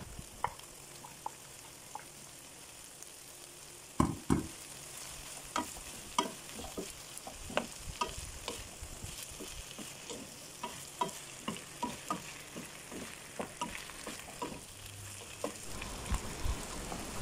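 Green beans and potatoes sizzle in a pan over medium to high heat while a utensil stirs them, giving a steady fry under scattered sharp scrapes and taps for a long stretch and no voices.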